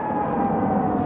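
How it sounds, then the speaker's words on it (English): A steady air raid warning siren in southern Israel, triggered by the Iron Dome defense system, holds one sustained wailing tone over a broad, even background roar. "The sirens are activated by the Iron Dome defense system."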